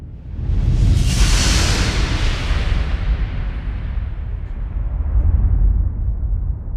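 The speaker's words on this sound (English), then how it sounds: "But the actual sound of that explosion, I'm going to bypass the EQ. This is what it really was." A massive explosion erupts, its deep rumbling roar sustained for several seconds and slowly fading, loud and close.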